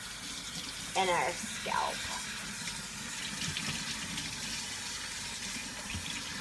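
Shower water runs steadily as shampoo is rinsed out of hair, a constant close hiss of spray with a voice speaking briefly over it near the start.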